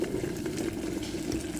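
Boiling water poured from a pot over holy basil and pineapple sage herbs in a gallon container: a steady, close splashing gurgle of liquid filling the vessel, continuous and moderately loud with no voices.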